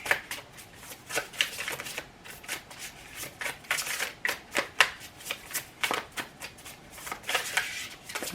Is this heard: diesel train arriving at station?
no